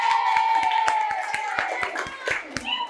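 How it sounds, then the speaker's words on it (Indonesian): An audience claps in a steady beat of sharp, evenly spaced hand claps at a gathering for reading an Acehnese hikayat, with voices talking and chattering over the clapping. "Tepuk tangan dulu teman ya."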